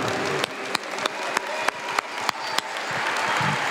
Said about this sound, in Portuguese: Vocês merecem um aplauso mesmo.